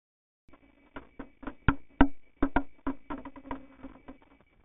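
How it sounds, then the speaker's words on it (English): A screw falls through the rail of a screw dispenser, picked up by a piezo contact microphone as a quick series of small metallic knocks and rattles that build, peak and then die away. "this is the sound of a screw,"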